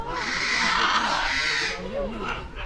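A blue-and-gold macaw at a parrot attraction gives a loud, harsh, raspy squawk that runs through most of the clip, with a short call near the end. A person talks over the calls.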